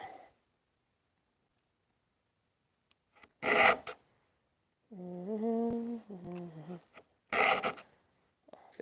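A metal file rasps against the teeth of a handsaw being sharpened, in a few short, separate scraping strokes with quiet gaps between them, and a low, drawn-out tonal groan in the middle.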